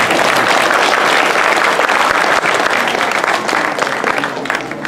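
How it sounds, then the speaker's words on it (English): Loud, sustained applause from a crowd at a Sri Lakshmi Narayan Kalyanam ceremony, dense clapping that continues throughout and tapers slightly at the end. "With all big applause, please."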